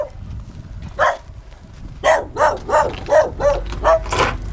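A dog barks close by, first a single bark and then a quick run of about seven sharp barks in steady rhythm, with faint background noise.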